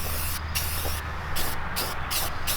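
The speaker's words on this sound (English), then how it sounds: "with your spray can pointing down like this either" An aerosol spray can hisses in several short bursts with brief pauses between them while paint goes onto a part of a military-style mini bike, close and steady.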